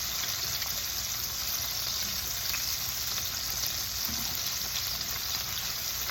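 Shrimp sizzle steadily in a hot pan, a continuous dense frying hiss with faint crackles throughout and no talking.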